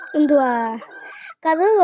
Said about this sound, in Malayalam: ഈ കോഴികളൊക്കെ ഭയങ്കര സുന്ദരികളാട്ടോ